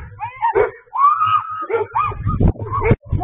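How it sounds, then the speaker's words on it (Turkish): A 57-year-old woman screams and wails as six stray dogs attack her on a street in Bandırma, Balıkesir, with repeated loud cries, barking mixed in, and agitated shouts breaking through the chaos. "Şoke olan kadın çığlıklar içinde yerde kaldı."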